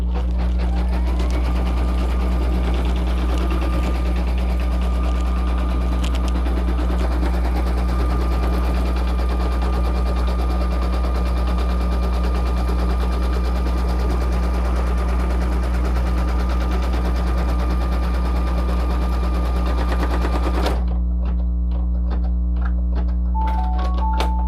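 A computerized embroidery machine stitches a design onto a hooded towel with a fast, steady mechanical rattle for about twenty seconds. The stitching then stops, leaving a quieter hum with a few faint clicks and beeps.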